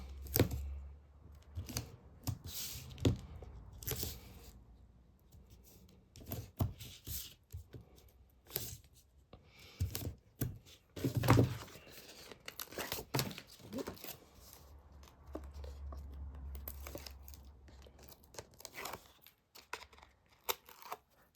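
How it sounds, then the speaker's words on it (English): Tape is pulled, torn and pressed onto paper while a pre-made farmhouse policy envelope album is assembled, heard as quiet, close, irregular rips, crinkles and taps spread through the whole stretch with no talking. "I'm going to use tape just to stick this bit on."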